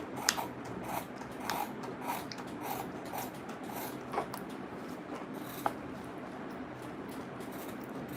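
Steady snipping and crunching of scissors cutting through Ankara fabric, close up, with small regular clicks of the blades.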